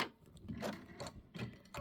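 An embroidery sewing machine stitches a wavy decorative stitch on a chenille pineapple quilt block, giving off a fast mechanical whirring and ticking that comes in short bursts with brief pauses, close and fairly quiet.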